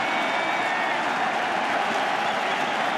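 Crowd of baseball fans at Fenway Park during Game 2 of the 2013 World Series, a steady dense roar of cheering and applause that holds at the same level throughout.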